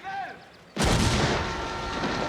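A bomb blast in a scene from The Godfather Part II goes off suddenly after a quieter stretch of film sound, then rolls on as a loud, broad roar that fills the rest of the moment.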